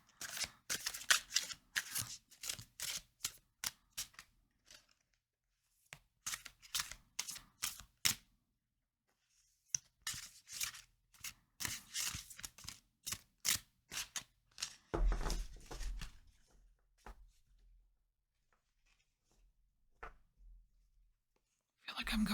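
Fortune cards handled and shuffled in a series of crisp, papery riffling bursts, close and fairly quiet, with brief pauses between handfuls and a soft thump near the end.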